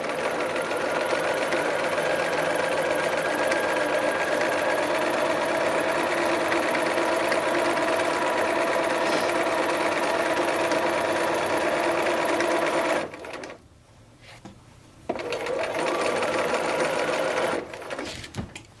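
A sewing machine stitches a seam on a knit dress, running in a fast, steady mechanical whir close by, pausing briefly near the end before resuming for a few more seconds.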